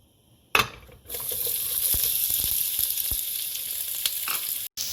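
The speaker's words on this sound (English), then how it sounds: "Once the oil gets hot, I'm going to add in the onions." Onions drop into hot oil in a heated pan with a sharp burst, then settle into a loud, continuous sizzle with small crackles, close by, with a brief cut near the end.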